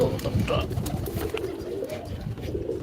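Pet pigeon cooing close by, soft repeated low throaty coos running through the short stretch over faint background noise.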